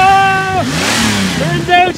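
A Ford F250 truck engine, just refueled after running out of gas, revs loudly and close by. Its pitch sags low, then climbs again in a steady rising sweep.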